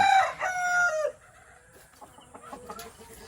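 A Texas-breed gamefowl hen clucks loudly and close at first with a drawn-out call, then trails off into softer, scattered clucks and quiet farmyard sounds.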